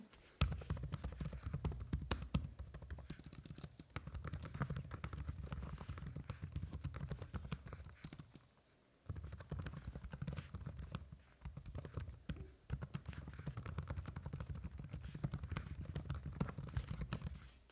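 Steady, rapid typing on a Huawei Matebook X Pro laptop keyboard, dense clicking keystrokes, close and continuous, with a brief pause partway through.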